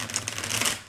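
Tarot cards being shuffled in a short, close, riffling burst of papery flutter lasting under a second.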